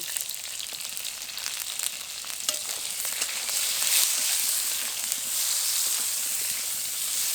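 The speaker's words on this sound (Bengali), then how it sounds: "তেলের মধ্যে বেগুন দিয়েও ভেজে নেব।" Eggplant frying in hot oil in a village-style kitchen: a continuous, close hissing sizzle that swells louder midway and stays steady, with no talking.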